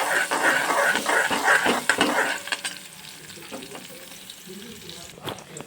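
Green chillies frying in a pan and being stirred for a Kathiyawadi sev tameta curry, with a loud steady sizzle and scraping stirs that settle into quieter crackling near the end.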